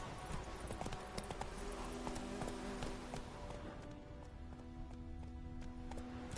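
Roach the horse gallops in The Witcher 3, a steady rapid clip-clop of hooves running continuously under game ambience and music, with no talking over it.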